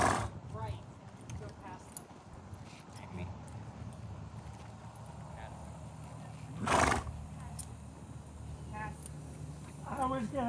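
A horse whinnies loudly in the middle while hooves clip-clop and shuffle on the ground, with people talking over much of it and a second shorter neigh near the end.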